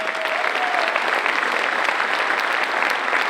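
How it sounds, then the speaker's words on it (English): At a leadership conference, an audience gives a sustained round of applause, dense and loud clapping filling the room evenly from start to finish. "let's get a round of applause for that"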